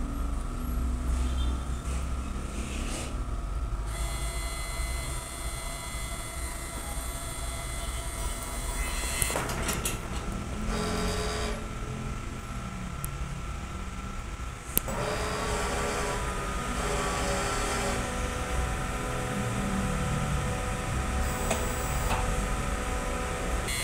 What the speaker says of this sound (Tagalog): Ganito naman po ang nozzle check.